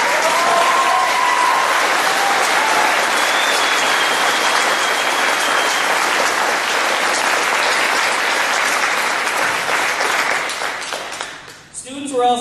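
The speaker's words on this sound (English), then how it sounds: "I would like all of us today to put our hands together and let them know how proud we are of them" Applause from a graduation ceremony audience for the graduating students, a dense sustained wash of clapping that fills the room for about eleven seconds before tapering off, with a faint voice near the end.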